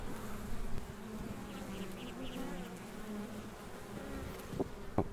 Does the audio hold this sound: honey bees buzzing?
yes